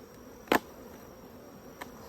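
Honey bees buzzing around mini mating nucs, a faint steady hum of many bees with one sharp close pass and a brief fainter one later.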